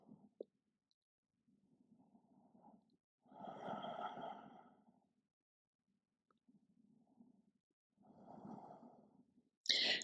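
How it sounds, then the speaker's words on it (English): Breathing during a yoga practice, with a few slow, quiet breaths alone and long silent gaps between them, two of the breaths fuller and louder. "And breathe here."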